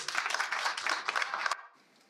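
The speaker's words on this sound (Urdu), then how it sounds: "ایک بار زوردار تالی اور بجا دیجیے" An audience at a literary poetry gathering claps loudly and steadily for about one and a half seconds. The applause then stops abruptly and leaves only quiet room tone. No one speaks over it.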